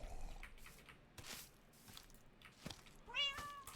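A cat meows in the Minecraft video game, a short rising cry near the end, heard over clattery in-game noises and brief bursts of sound.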